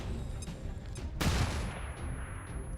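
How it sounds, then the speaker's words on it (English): A flashbang grenade detonates in the XCOM 2 Long War 2 video game: one sudden, loud, broadband burst with a sharp onset, followed by a fading wash of noise and a low rumble. "Well, thankfully we got a flashbang at the ready."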